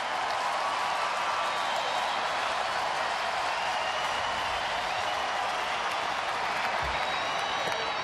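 A crowd of 45,146 at a baseball stadium rises to its feet, cheering and applauding in a broad, steady roar of noise that holds for the whole stretch.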